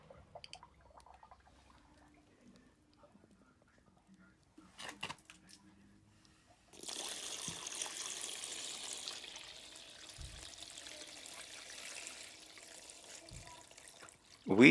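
Water trickles and splashes onto gravel above a basement drain pipe, starting after a quiet stretch with a few faint knocks, then running as a steady, soft wash close by.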